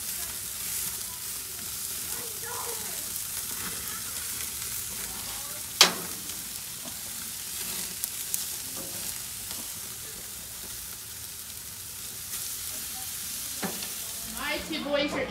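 Steaks frying in a pan give a continuous close hiss and sizzle, with occasional pops and a scrape or clink near the middle and a bit more clatter toward the end; nobody speaks.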